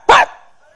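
A performer's voice imitates a dog barking, a single loud, sharp close bark with a short fading tail, alone.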